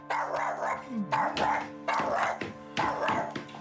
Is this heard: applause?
no